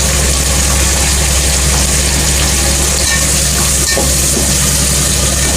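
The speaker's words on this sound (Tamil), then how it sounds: "நீங்கள் பார்க்குறது மீன் குழம்பு" A Tamil-style fish curry cooks in a pan with a loud, unbroken sizzling hiss, close and constant, with no voices over it.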